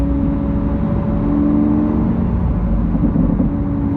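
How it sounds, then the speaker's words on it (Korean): Lamborghini Aventador S V12 exhaust in Sport mode, a loud, close, continuous deep rumble that swells slightly as the throttle is opened and closed, with no talking. "12기통이 주는 배기음은 정말 짱입니다 단순히 악셀을 스로틀을 열었다가 닫기만 했는데도"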